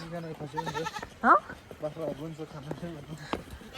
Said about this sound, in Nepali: बाख्राहरू पनि घाँस खाइरहेको छ